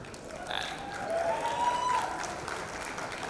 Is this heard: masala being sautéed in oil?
no